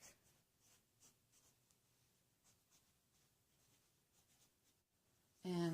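A pen scribbles and writes on fabric while a t-shirt pattern is marked out, producing soft, faint scratchy strokes in short bursts, with a louder bump right at the end.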